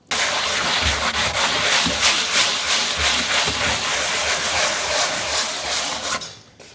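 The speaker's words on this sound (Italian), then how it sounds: "mi limito a carteggiare la parte con lo stencil a rilievo" Hand sanding of a raised white textured-paste stencil relief on an old salvaged furniture piece, a continuous loud rasping scrub with rhythmic strokes that fades out at the end, with no talking.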